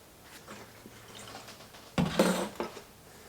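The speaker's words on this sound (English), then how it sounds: "I'm going to get these jars all cleaned up with some vinegar" Glass canning jars sticky with jalapeño simple syrup are cleaned with vinegar: faint handling noises, then a sudden cluster of glassy clinks and wet rubbing close by.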